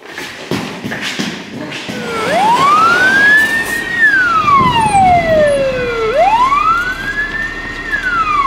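A fire engine siren sounds loud and close at a school fire drill, sweeping in long rising and falling wails over a low rumble of traffic and engine noise.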